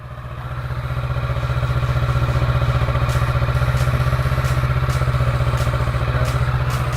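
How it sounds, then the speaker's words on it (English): A motorcycle fitted with an automatic drive-chain lubricator idles steadily after being started. Its close, loud, even putter holds a constant rhythm throughout, with a faint repeating tick above it. "We have started the bike,"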